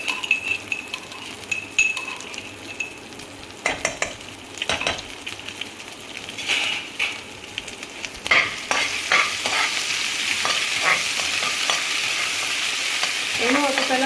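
Garlic and ginger paste fries in a pan, soft sizzling broken by repeated clinks and scrapes of a spoon stirring against the metal, close and busy throughout.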